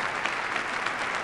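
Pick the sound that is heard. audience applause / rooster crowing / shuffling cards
audience applause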